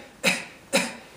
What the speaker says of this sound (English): So as you cough out, put your hands on your stomach and you'll feel the motion.